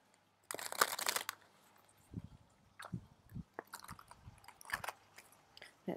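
Playing cards are shuffled up close in a few short, soft bursts of riffling and slapping, with quiet pauses between.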